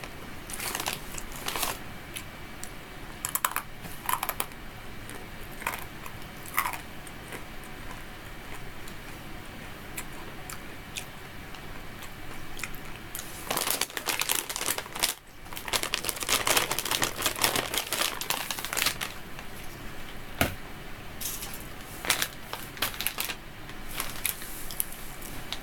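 Someone chews crunchy food close to the mic, producing continuous crackling and crisp crunching bites that grow denser and louder midway, with no talking.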